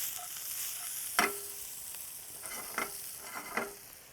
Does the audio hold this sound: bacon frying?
yes